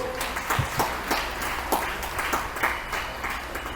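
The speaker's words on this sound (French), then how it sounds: "Qu'on acclame très fort le Holy Ghost." A church congregation claps during a Catholic teaching session, with a steady, moderately loud patter of hands in a roughly rhythmic beat that continues throughout.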